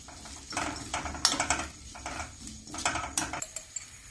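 Boiled potatoes with ginger and green chili being stirred in a pan, heard as light, irregular scraping and clinking taps in short bursts, fairly close and quiet.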